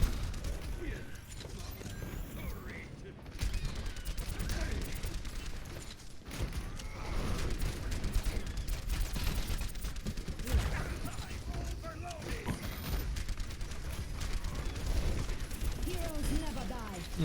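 Dense, continuous gunfire and battle noise from an Overwatch match on the Havana map, with rapid shots and impacts layered throughout and a voice talking over the action.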